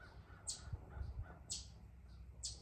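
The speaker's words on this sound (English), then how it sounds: "You can hear the birds too." Crows cawing on a mountaintop in the Smokies, three harsh calls spaced about a second apart, moderately distant over a low rumbling background.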